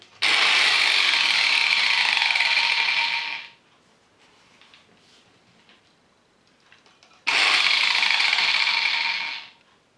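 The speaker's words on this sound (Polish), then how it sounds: "wystarczy, że obrócę szlifierkę i zmienia się kierunek obrotów" An angle grinder whines loudly at high speed, winds down and stops, then after a quiet pause spins up again at full power.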